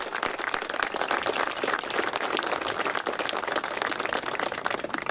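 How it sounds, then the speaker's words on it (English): Audience applause for city council members at the St. Pete Pier groundbreaking ceremony, a dense, steady wash of many hands clapping at once that holds for about five seconds without pause. "please give them a big round of applause"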